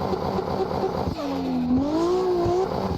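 A car engine in the Assetto Corsa driving sim revs up and down while drifting under modulated throttle, a close, loud, buzzy note that dips then swoops through wavering rises and falls, with no talk over it.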